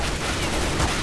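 Rapid gunfire from a CZ pistol in CS:GO, fired while moving, a dense continuous burst of loud, close shots filling the whole short stretch.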